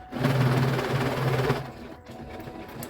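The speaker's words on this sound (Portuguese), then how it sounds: "eu passo a costurinha de segurança dos dois lados" A sewing machine runs a safety seam along both sides of a fabric multipurpose bag, a fast steady whirring stitch for about a second and a half before stopping, close and clear.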